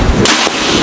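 A Predator Bullaxe PCP air rifle fires at a 25-meter target with a sharp, loud, close crack, followed by a short, bright burst of noise.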